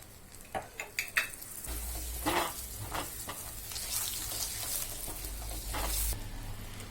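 Chili powder and spices hit hot oil while making paneer butter masala, giving a steady close sizzle of frying with a few clinks and stirring scrapes of a spoon against the pan.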